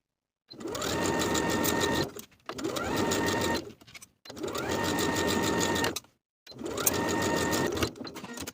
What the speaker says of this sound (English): take it to your machine and edge stitch close to that upper inner fold all the way around